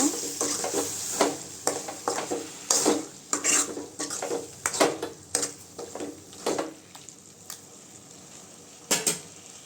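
Goat intestine curry being stirred in a pan, a spoon scraping and clinking against the metal in irregular bursts over a faint sizzle, close and alone.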